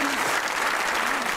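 A studio audience at a Pakistani comedy talk show claps in a brief, full burst of applause, steady and close, with faint voices mixed under the clapping.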